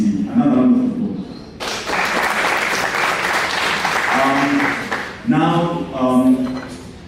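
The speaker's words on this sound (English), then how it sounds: "Another round of applause." A stakeholders meeting audience breaks into a few seconds of applause, a dense burst of clapping set between stretches of someone talking, who starts speaking again as the clapping fades.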